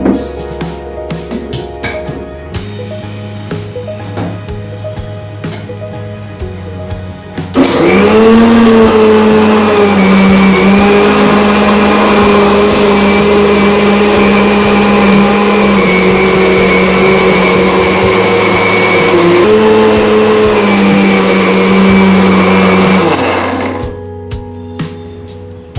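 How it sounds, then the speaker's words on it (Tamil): A mixer grinder grinds shallots, pepper and chillies for a Kerala drumstick and fish gravy, a loud steady whirring motor starting abruptly after a quieter stretch, running for about sixteen seconds with a small pitch shift, then cutting off. "இந்த மிளகாய், இந்த வெங்காயம், பெப்பர் எல்லாமே நல்லா அரையணும்."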